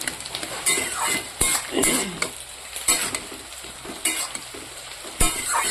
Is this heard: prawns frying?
yes